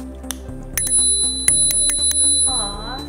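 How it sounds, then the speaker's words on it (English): Handlebar bell on a Levy electric scooter, rung in several sharp metallic dings with ringing tones that linger between strikes, loud and close with no talk. "A little bell right here, brake."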